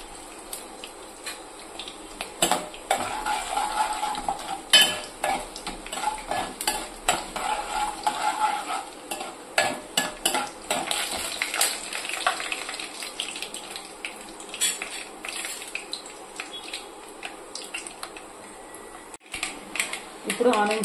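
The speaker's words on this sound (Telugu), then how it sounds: "రెండు ఎండుమిరపకాయలు వేసుకుంటున్నాను." Dry red chillies fry in hot oil with tempering seeds while being stirred, for a drumstick and tomato curry; a steady sizzle runs under repeated scraping and clinking from the spoon, close and continuous.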